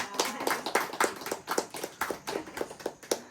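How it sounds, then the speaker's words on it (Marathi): A group of people clap their hands in a quick, steady rhythm at a women's haldi-kumkum gathering with elderly ladies, the claps close and evenly spaced. "टाळ्या वाजवा, छान"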